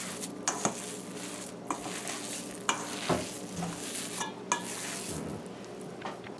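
Dhal pholouri batter being stirred as roasted ground geera and salt are mixed in, with scraping, clacking spoon strokes against a bowl at an irregular rhythm, close and fairly quiet, no talking.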